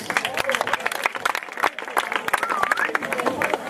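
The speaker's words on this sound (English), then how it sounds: "So an applause for Julia's brother, please." Scattered clapping at a dance event, in applause for a relative, with sharp individual claps cutting through lively voices and crowd chatter.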